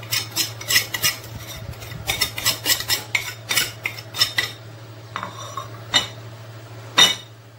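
Spoon stirring spices into a shish tawook marinade in a bowl, a quick run of close clinking and scraping strokes that slows into a few sparse taps, with a low steady hum underneath.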